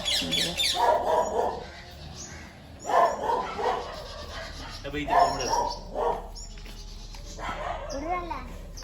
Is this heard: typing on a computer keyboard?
no